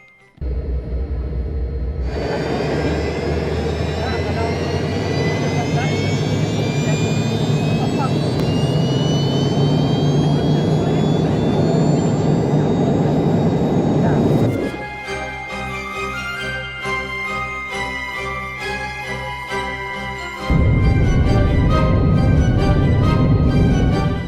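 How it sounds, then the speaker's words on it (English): Three Ivchenko turbofan engines on a Soviet airliner in Microsoft Flight Simulator spool up with a loud, steady roar and a rising whine. The pitch climbs over about twenty seconds and stays close and continuous throughout. "The sounds of 3 Yevchenko turbofan engines spooling up right behind me."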